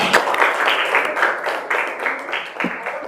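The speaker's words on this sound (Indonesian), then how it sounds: "tepuk tangan buat Sofia." A class applauds during a school guidance session, giving a few seconds of brisk, fairly loud hand clapping with a voice partly audible.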